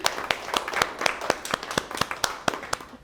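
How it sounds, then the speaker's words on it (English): An audience at a panel discussion on highway expansion and Indigenous communities applauds, with fairly sparse individual claps standing out in a steady, moderately quiet patter. "So I want a round of applause for all of y'all for being here today."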